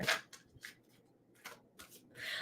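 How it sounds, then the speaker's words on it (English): Tarot cards being shuffled by hand: a series of quiet, separate riffling and flicking bursts with short pauses between them, close and soft, with no talking. "I'm just shuffling really good, getting your energies."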